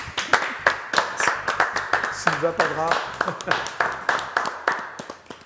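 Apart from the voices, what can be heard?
audience applauding a singer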